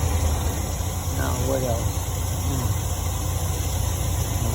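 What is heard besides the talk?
2010 GMC Savana 4.3 engine idling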